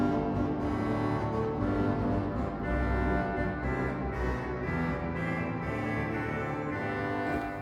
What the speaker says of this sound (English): The trumpet 60 foot.